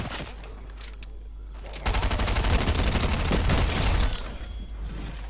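An automatic weapon fires in Fortnite Zero Build, a steady rattling burst of shots lasting about two seconds over ongoing game background noise, near and loud, with no speech.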